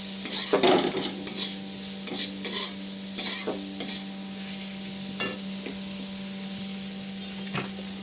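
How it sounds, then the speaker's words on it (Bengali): Finely chopped onions frying in a pan, a steady low sizzle beneath repeated sharp scrapes and clinks of a spatula stirring against the metal, the stirring bursts irregular and close, with no talking. "পেঁয়াজটাকে একটু ভালো করে লাল লাল করে ভেজে নিতে হবে"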